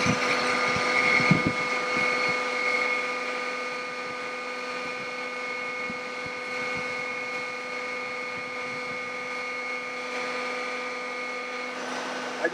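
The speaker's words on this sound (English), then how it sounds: "I will turn my idle on, raise the ladder." A fire truck's aerial ladder raises on hydraulics while the engine holds a steady idle, giving a continuous even mechanical hum with fixed whining tones, a few soft clunks early on and a sharp click at the end.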